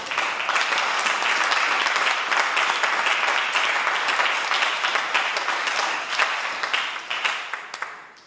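A church congregation claps and applauds during a French-language sermon, a dense, steady burst of many hands that holds loudly for several seconds and then thins into scattered claps at the end.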